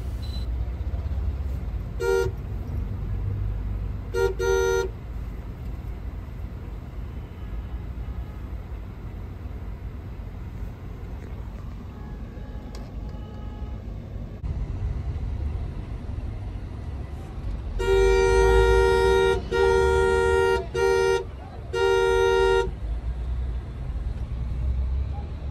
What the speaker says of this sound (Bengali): এই যে দেখেন এখানে অনেক জ্যাম।